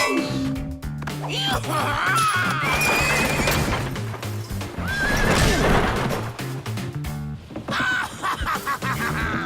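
Cartoon horses neigh and whinny loudly over galloping clip-clop hooves during a chase in a Dalton animated episode, with dramatic music playing throughout.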